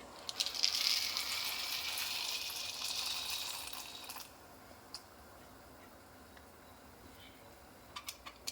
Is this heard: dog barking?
no